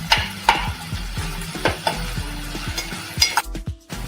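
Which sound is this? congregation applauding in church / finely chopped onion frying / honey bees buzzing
finely chopped onion frying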